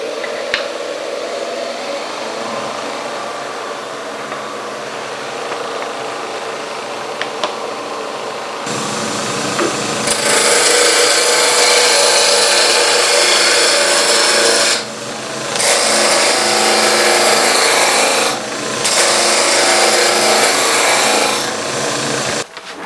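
Wood turning on a lathe, cutting a blank down to diameter: a steady motor hum, then a loud continuous hissing scrape as the tool cuts, broken by two brief pauses.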